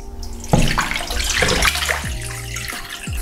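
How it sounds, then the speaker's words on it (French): Two litres of water poured into a large fondue pot or Japanese nabe, a splashing, gurgling stream that starts abruptly and runs unevenly for a few seconds, close and fairly loud. "Vous ajoutez 2 litres d'eau."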